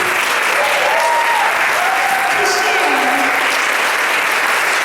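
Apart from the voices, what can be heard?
applause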